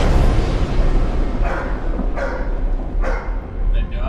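Dog barking in a trailer for the horror film about the ship Demeter, a few sharp barks over a loud, dense bed of music and effects, with voices speaking.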